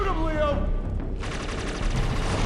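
Gunfire in the video game Inversion, rapid shots rattling under a shouting voice, then a dense crackling burst of fire taking over for the final second and a half.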